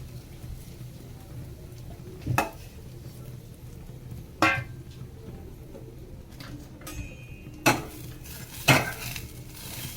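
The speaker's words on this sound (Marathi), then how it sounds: "त्याच ड्रायफ्रूटच्या तेलामध्ये आपण थोड्याशा शेवया परतून घेऊ लाल होईपर्यंत." Vermicelli sautéed in dry-fruit oil for a sweet kheer, with sharp metal spoon-on-pan scrapes and clinks at intervals over a low, steady pan hiss; no voices.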